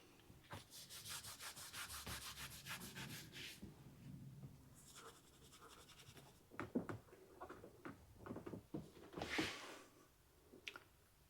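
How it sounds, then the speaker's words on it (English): A cloth rubbed with isopropyl alcohol across a car panel on a 3rd gen 4Runner, giving soft, faint, repeated wiping strokes in short bursts, close and quiet. "Now I'm going to wipe the area down with some isopropyl alcohol"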